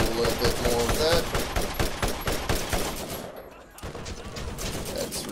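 Rapid automatic gunfire from a Scorpio Turret in Borderlands, a dense stream of sharp shots that briefly drops away and then resumes, with a player's voice speaking over the shooting.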